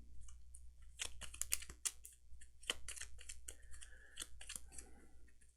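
A deck of Gloomhaven game cards being shuffled by hand at a table: repeated crisp riffles, snaps and flicks in irregular bursts, close and fairly quiet.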